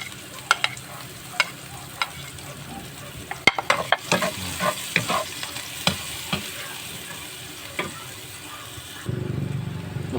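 Onion being sautéed in a pan for pork menudo, with a steady low sizzle and repeated sharp clacks of a utensil stirring against the pan, close and loud, with no talking.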